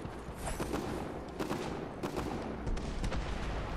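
Gunfire in Fortnite, a string of sharp shots in irregular bursts crackling over a busy game soundscape, moderately loud and close.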